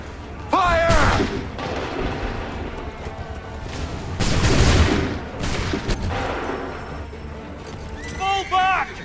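A ragged musket volley erupts in the Assassin's Creed 3 video game, with loud overlapping gunfire bursts and booms spread across several seconds as voices shout commands over the shooting.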